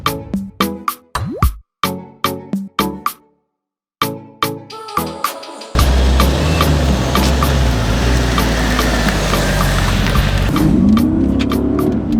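A straight-piped Mercedes CL63 AMG with its naturally aspirated 6.2 liter V8 throws out a string of sharp, loud exhaust blasts and revs, goes quiet for a moment, then settles into a heavy, continuous drone while driving.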